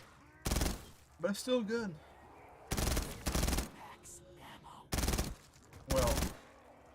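Heavy gunfire from a gun in Black Ops 3 Zombies, fired in short loud bursts of a few shots with pauses between, while someone talks briefly in the gaps.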